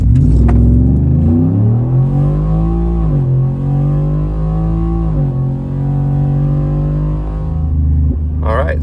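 A 2023 Ford F150 truck with a 5.0 V8 and ten-speed automatic, stock with a drag pack, runs a full-throttle pull in four-wheel drive, its engine note climbing steadily through several gear changes, loud and close throughout.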